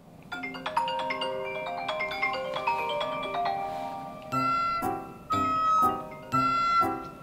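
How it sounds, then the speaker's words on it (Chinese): A mobile phone ringtone plays a loud melodic tune of bright stacked tones during an office year-end bonus meeting, then switches to three repeated ringing bursts with short gaps, with no talk over it. "又是谁手机？ 谁手机？"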